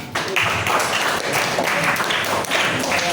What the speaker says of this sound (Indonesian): Ya betul, tepuk tangan buat Ivana.